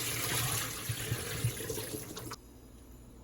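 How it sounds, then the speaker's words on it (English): Water drains from a pot of washed turkey gizzards, a steady close rushing and splashing that stops abruptly near the end, leaving quiet. "Drain out the water."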